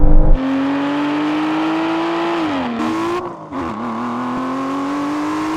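Aston Martin V12 cars launching in a half-mile drag race, a loud sustained engine roar rising steadily in pitch, with a brief dip at a gear shift before climbing again, close and dominant.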